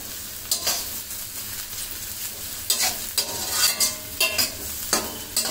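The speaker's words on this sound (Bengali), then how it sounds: "এখন এটা পেঁয়াজটা আমি কালারটা চেঞ্জ হওয়া পর্যন্ত আমি ভেজে নিব।" Onions sizzle in a pot for a beef curry while being stirred, with repeated scraping strokes of a utensil at an irregular rhythm, close and fairly loud.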